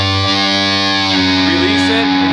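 A distorted electric guitar plays a picked note bent up a half step, from a song; the sustained, gritty tone slides in pitch and rings loud and continuous.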